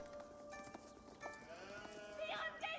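Game sheep bleat faintly in Age of Empires 4, short wavering cries rising and falling over a quiet background mix of light ambient game sounds.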